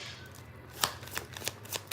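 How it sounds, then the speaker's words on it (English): Tarot cards shuffled in the hands in a quick run of soft riffling snaps and flutters, close and fairly quiet, with no talking. "Just stop shuffling."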